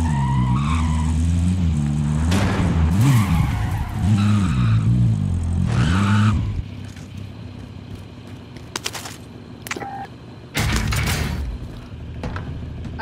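A car in a video game skids and revs on tarmac near an airplane, engine pitch swooping up and down with tire squeals, then cutting to a quieter idle before another loud burst.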